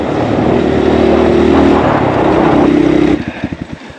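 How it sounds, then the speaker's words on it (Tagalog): A motorcycle engine runs steadily nearby with a rough, droning hum, its sound seemingly off, then drops to a slow idle putter with uneven pulses at the end, on a rough backroad. "Parang iba na yung tunog ng makina ng motor ko."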